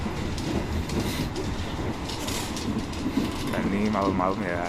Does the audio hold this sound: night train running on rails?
yes